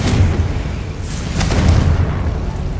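Deep, rumbling spell blasts in the video game Hogwarts Legacy, a sustained loud booming roar with a couple of swelling bursts during combat.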